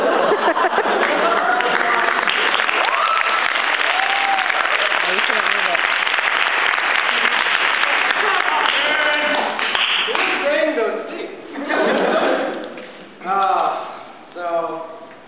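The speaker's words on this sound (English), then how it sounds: "Please, round of applause." Audience applause at a Saint Patrick improv comedy show, a dense sustained wash of clapping that fills most of the stretch before thinning out as a voice begins talking over the tail.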